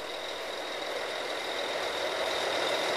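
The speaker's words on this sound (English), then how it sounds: "You see the turntable spins." An oil and gas drilling rig turntable spinning round with the Kelly bushing, a steady loud mechanical roar and hiss with a constant tone running through it, without talk.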